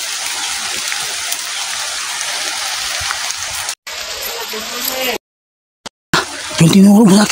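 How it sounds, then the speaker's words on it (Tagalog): Heavy rain pours in a dense, loud hiss, broken by abrupt cuts to silence before resuming. "Ay, lakas ng ulan."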